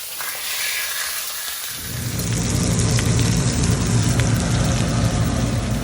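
Fish searing in a hot pan, a quiet hiss that swells after about two seconds into a loud, dense, steady sizzle held close throughout.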